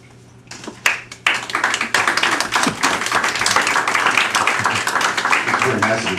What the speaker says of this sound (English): You don't have to clap for every point.